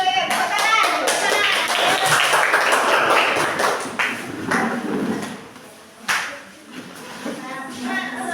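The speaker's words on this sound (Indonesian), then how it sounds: "Tepuk tangan." Children clapping their hands in a classroom, a busy, uneven patter of claps from a group for several seconds, with chatter and a few sharp claps toward the end.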